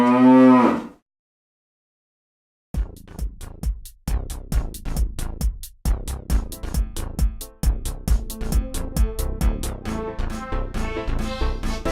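Cows moo in a short burst, then after a pause a fast, rhythmic run of repeated bovine calls follows, loud and close, almost like an animated or edited sequence.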